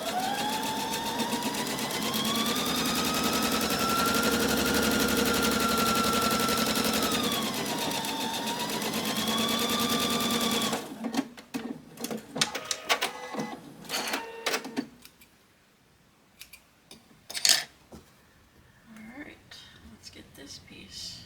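Quilt pieces run through a sewing machine as a steady, close whirring hum for about ten seconds, with a voice talking over it, then scattered clicks and handling sounds follow.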